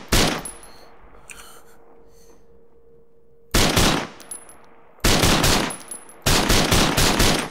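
Arma 3 Marksman DLC rifle fire: three loud bursts of closely spaced shots, each cutting in abruptly, separated by quieter stretches of ambient hum and faint distant noise.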